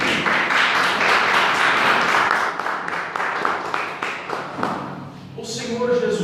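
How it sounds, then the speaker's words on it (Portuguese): A church congregation claps together in a steady broadband patter, loud and close, then the applause fades as a voice begins speaking near the end. "dar uma salva de palmas para Deus"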